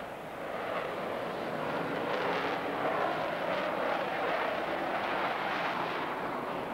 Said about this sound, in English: Four Vulcans airborne within the minute.